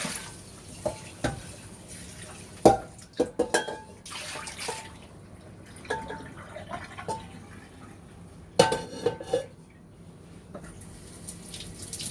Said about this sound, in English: Make sure you just wash it with the sponge.